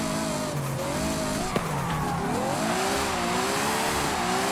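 A 1400hp Ferrari J50 on snow tires slides in Forza Horizon 5, its loud, constant engine drone rising and falling under continuous tire squeal, with one brief knock partway through and no talk.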